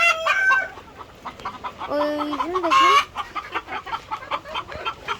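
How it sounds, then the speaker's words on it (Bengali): Chickens cluck and squawk close by while pecking at bitter gourd in a backyard coop, with a brief crow-like call and a short spoken word amid the busy, uneven clucking. "এখানে মুরগিগুলো খাচ্ছে করলা"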